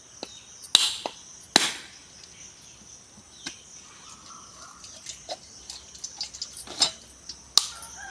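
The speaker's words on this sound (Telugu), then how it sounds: "ఇప్పుడైతే కొబ్బరికాయలు అయితే కొట్టేద్దాము" Large coconuts are struck to crack them open outdoors, with several sharp, loud cracking blows spaced irregularly and some fainter knocks between them, and no talking.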